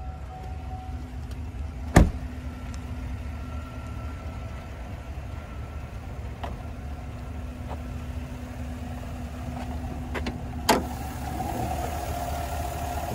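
A 2022 GMC Sierra 1500 Limited Denali's 6.2 liter V8 idles under the open hood with a steady low rumble, joined by a couple of sharp clicks and a faint higher whine.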